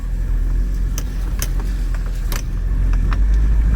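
A Kia Sorento engine, about twenty years old, idles in a steady, smooth low rumble close by, with a few faint light clicks above it and no talking.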